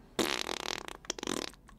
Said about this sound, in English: Fart sounds.